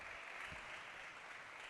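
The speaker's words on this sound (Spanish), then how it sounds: "Dale un aplauso al Señor." A church congregation applauding during a sermon, a faint, steady wash of clapping that stays even from start to finish.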